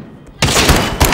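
Loud gunfire bursts in a one-on-one sniper video game match, with a couple of sharp close shots cracking out after a quiet start.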